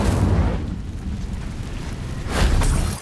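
In Hogwarts Legacy, a fire spell is cast with a loud fiery blast that opens with a burst of flame, settles into a lower rumble, then flares up in a second strong whoosh near the end.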